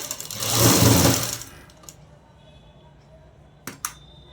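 A sewing machine runs in one short, fast burst while stitching a joint on a festival dress, then stops, followed by a few faint clicks and a couple of sharp mechanical taps near the end.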